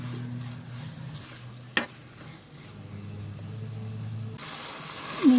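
Tomatoes sautéing in a pressure cooker for chicken biryani, a soft steady sizzle with occasional stirring scrapes and one sharp clink, close and fairly quiet, alone without talk.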